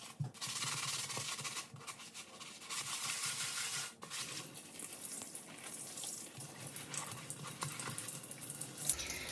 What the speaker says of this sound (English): I'm actually going to fill up my sink with some hot water